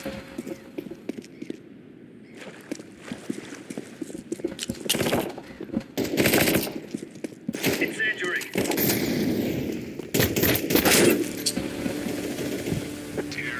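P90 submachine gun bursts in Counter Strike 2, loud rapid volleys of gunfire in several clusters with gaps between, mixed with game effects and a voice speaking at times.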